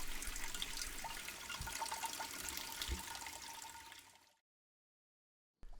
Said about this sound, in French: Le ruisseau qui se trouve dans mon maquis me fournit l'eau que je filtre avec un tissu, du sable et des graviers